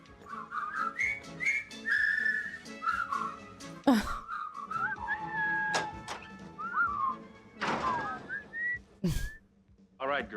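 Several people in a film scene whistle a bouncy tune together, with overlapping melodic whistles, a couple of sharp thumps, and brief bits of talk and rustling between phrases.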